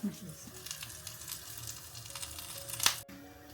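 Spice paste sautéing in a pan for a Madurai-style curry leaf curry with dry fish, a soft steady sizzle with faint stirring scrapes and one sharp clink near the end.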